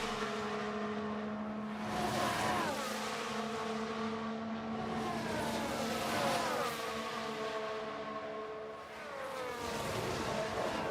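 Formula 1 race cars in the F1 Manager game at the Miami Grand Prix, a continuous engine drone with steady harmonic whine and pitch sweeps as cars rev and shift, loud and sustained throughout.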